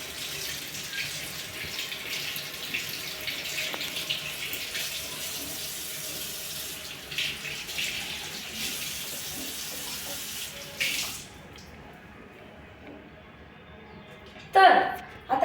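Mangoes are rinsed under a running tap, a steady rushing stream heard near and moderately loud for about eleven seconds before it shuts off, followed by a couple of brief knocks.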